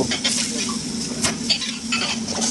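Boiled broccoli and sausage are tossed with penne pasta in a pan, a close, continuous sizzle with light stirring and clinks of utensil against the pan.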